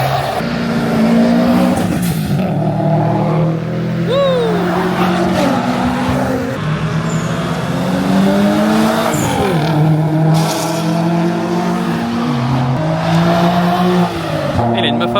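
A modified car in Japan revs hard and drives past, a loud, close engine note rising and falling through gear changes with a brief tire squeal, while people talk over it.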